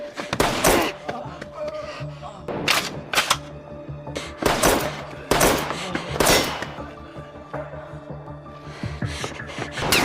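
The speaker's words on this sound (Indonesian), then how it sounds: "ia pun harus kembali berhadapan dengan Nana yang mencoba membidiknya dari kejauhan dan" Sniper gunfire in a dramatic film scene, several sharp cracks spread irregularly across a busy, loud mix with some background voices and movement.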